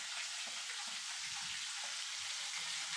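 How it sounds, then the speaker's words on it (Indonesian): Salted fish (asin) frying in hot oil in a home kitchen, a steady dense sizzle and crackle that holds at an even level throughout, with no talking. "Tinggal nunggu goreng asin sama itu kita makan."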